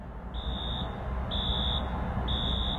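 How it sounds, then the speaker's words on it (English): A movie theater fire alarm sounds three times, each a steady high-pitched tone lasting about half a second, repeating at a regular interval over a constant low background rumble, with no talking. "That's the alarm that has been going off since around 1 o'clock in the morning"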